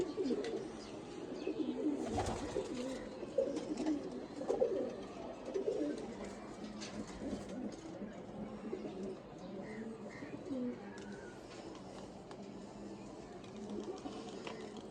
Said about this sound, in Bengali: তো এখানে কিছু ভালো ভালো কবুতর দেখতেছি, অনেক অনলাইনের কবুতর।